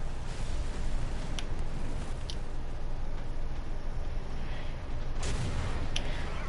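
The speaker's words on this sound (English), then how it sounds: "We do have artillery coming down in our position" Artillery fire in the War Thunder video game, a steady dense rumble of distant shelling with a few sharper bursts and impacts standing out, no talking.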